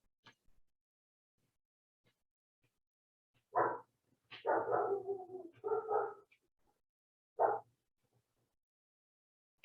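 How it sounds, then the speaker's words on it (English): A dog barks in a few short, loud bursts, one clustered group followed by a single later bark, heard fairly close against an otherwise quiet background with no talk. "I don't know if you can hear that dog barking."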